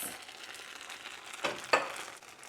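Onions drop into a pan of vegan, gluten-free bánh xèo batter frying, a steady close sizzle with two brief crackling bursts as they land, no talking.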